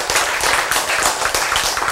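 Dense, steady applause from an audience at a church sermon, many hands clapping continuously at close range with no voices over it.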